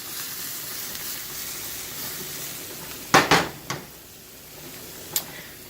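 Pasta sauce with crushed red pepper simmers in a pan with a soft, steady sizzle, broken by a few sharp clinks of utensil or pan near the middle and end.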